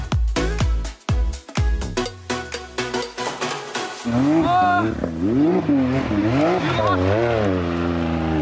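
A Ford Maverick pickup does a burnout: rapid engine pulses and revving give way to a loud, wavering tire squeal as the wheels spin, close and sustained for several seconds.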